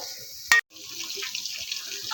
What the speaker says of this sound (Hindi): इसी ऑयल में गाजरें अच्छी तरह से फ्राई कर लेंगे।